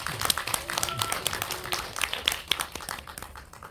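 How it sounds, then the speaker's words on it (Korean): Small audience at a film talk event in Seoul clapping to welcome a guest author, sparse, uneven hand claps with distinct individual strikes, fading toward the end. "박수로 환영해 주세요."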